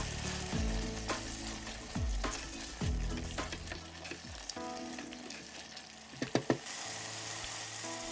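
Spices for chicken biriyani fry in an electric rice cooker with a steady close sizzle, broken by several scraping stirs and knocks of a spoon against the pot.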